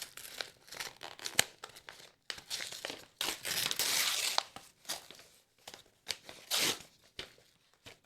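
A package being opened by hand, with loud bursts of crinkling and rustling wrapping material separated by short pauses, close and without any voices.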